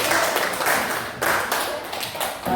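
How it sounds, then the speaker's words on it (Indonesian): Audience clapping for Bu Rida at a teachers' dissemination session on positive school culture, steady dense applause throughout with slight swells, no talk over it. "Tepuk tangan dulu buat Bu Rida."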